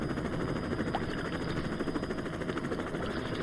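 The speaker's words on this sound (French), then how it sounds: "Je vois un hélicoptère!" A steady, continuous rotor drone with a faint rhythmic chop, like a helicopter passing at moderate distance, with no voices.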